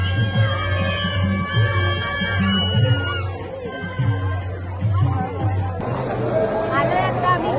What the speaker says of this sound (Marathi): गर्दी बघा तुम्ही.